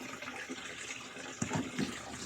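Water drains from a washing machine after a leak repair, a quiet steady rushing flow with a few soft gurgles and knocks toward the end, no talking over it.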